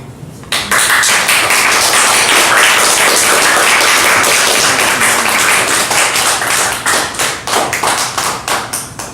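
An audience at a Korean artist's talk claps loudly and briskly together for several seconds. The burst then thins into scattered, slowing individual claps that taper off at the end.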